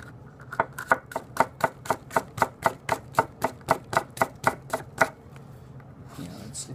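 A Takamura 210 R2 kitchen knife chops steadily through food on a board, about twenty crisp, evenly spaced strikes in a quick regular rhythm, close and clear, then stopping.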